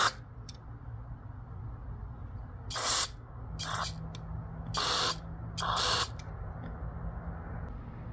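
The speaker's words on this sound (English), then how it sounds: "Gotta spray through these holes as well" Four short, bright bursts of spray hiss through small holes in a part, each about half a second long and spaced roughly a second apart, over a quiet low background hum.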